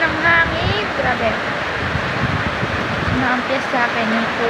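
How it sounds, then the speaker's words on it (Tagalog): Heavy rain pouring during a storm with strong wind, a loud, dense, unbroken wash of noise close to the microphone, with faint voice-like tones drifting through the background. "Ang lakas po ng ulan na yan."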